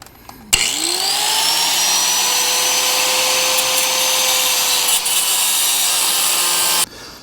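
A cutting tool grinds a slit into the top of an old, stuck bolt on a 1997 Cobra, giving a loud, steady whine that runs for about six seconds before it stops abruptly. No one speaks.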